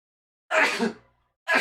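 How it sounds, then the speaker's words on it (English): A single sharp human sneeze bursts out loud and close, trailing off over half a second, with the start of another breathy sound following just after a short silence. "So I'm gonna sneeze."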